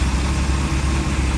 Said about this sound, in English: Now when I rev the engine,